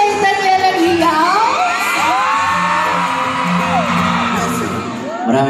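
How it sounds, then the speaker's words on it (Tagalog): A large crowd shouts, whoops and cheers loudly and continuously, with many voices rising and falling together. "parinig nga ulit natin kay Daniel ang hiyaw"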